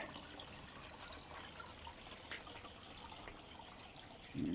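Water from an aquarium shower bar trickles and splashes in a faint, continuous stream, with a slightly louder gush near the end and no voices.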